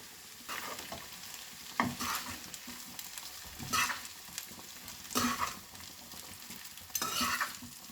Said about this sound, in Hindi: अब राइस को हम इसमें डाल देंगे।